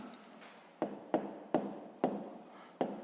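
A pen writes on paper during a sixth-grade math exercise, giving about five soft, separate strokes at a steady pace. They are quiet and close, with no speech.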